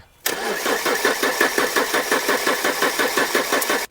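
A car engine, rebuilt from a scrapyard vehicle, cranks with a steady rhythmic starter chug for several seconds, loud and close, then cuts off.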